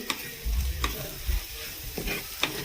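Beef chest and masala frying on a low flame in a clay pot, with a steady sizzle broken by several loud scraping stirs of a spoon against the pot.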